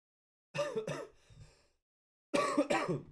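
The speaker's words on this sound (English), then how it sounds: "Sorry, I've got a bad cough." Two harsh coughs in quick succession, close and loud, followed by a softer breathy exhale, a pause, then two more forceful coughs.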